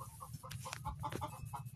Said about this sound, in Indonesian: Berisik ayam